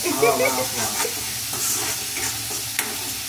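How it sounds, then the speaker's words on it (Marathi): A home pressure cooker vents steam in a steady, broad rushing hiss heard close up, with a short stretch of voice at the start and small clicks during the release. "कुकरची शिट्टी कुकर मधली हवा घालवायचा. वाफ घालवायचा हवा काय."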